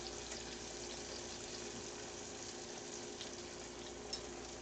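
Pan-fried pork chops sizzling in a frying pan on a slightly uneven electric stove element, a soft steady hiss that continues evenly with no one speaking.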